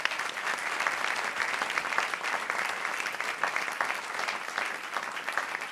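Dense, sustained audience applause at an award ceremony for a global learning prize, an even wash of many hands clapping with no talk over it.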